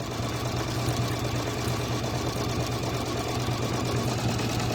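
A sewing machine stitches a tablet and phone case in one steady, rapid mechanical rhythm with a constant motor hum, close and continuous without any talk.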